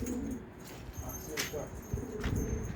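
Pigeons coo softly in a loose, repeated pattern against a steady background hum, fairly faint and close by.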